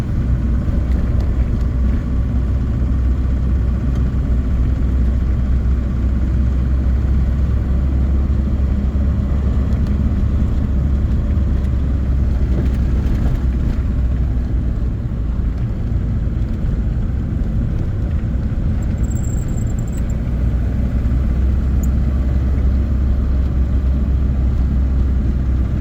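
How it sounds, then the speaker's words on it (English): A Citroën DS engine running during a climb, a steady, loud low rumble that holds for the whole stretch without a break, heard from inside or close to the car with no talk. "Some interesting engine noises."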